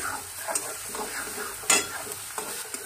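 Chopped onion and spring onion for Khandeshi brinjal bharit are stirred in a pan over a soft sizzle, with regular scraping strokes and one louder clank of the spoon against the pan.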